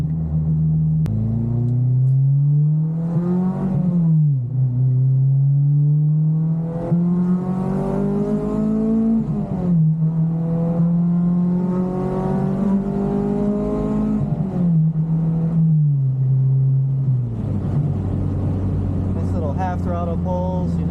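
A car with coilover suspension accelerates hard on a test drive, its high-mileage engine droning loud and close as it climbs through the gears in repeated rising pulls, each followed by a drop at the shift.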